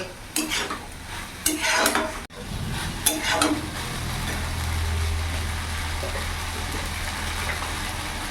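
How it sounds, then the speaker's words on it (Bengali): Water spinach (kalmi greens) being stir-fried in a pan over raised gas flame, opening with a few sharp scrapes and clinks of a spatula against the pan, then a steady loud sizzle with no talk. "এখন এইভাবে একটু নাড়াচাড়া দিয়ে ভাজা ভাজা করে নেব।"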